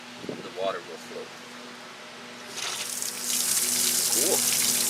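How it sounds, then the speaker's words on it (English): Water gushing from a newly installed brass half-inch hose bibb faucet outside, starting partway through as a steady loud hiss after a few short spoken words. "the water will flow."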